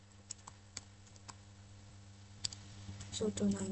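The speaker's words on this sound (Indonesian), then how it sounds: "Kita ketik perintah sudo nano" Sparse keystrokes on a computer keyboard, a handful of separate clicks spaced out, then a quicker burst near the end, quiet and close, with a voice speaking over the final moments.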